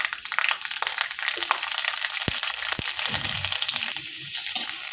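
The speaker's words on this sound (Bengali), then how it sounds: "এই তেলেতে দিয়ে দিচ্ছি 10-12টা রসুন।" Ten to twelve garlic cloves fry in hot oil on a stove, a steady close sizzling hiss with scattered crackles and a couple of sharp clicks.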